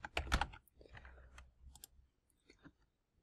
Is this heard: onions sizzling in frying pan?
no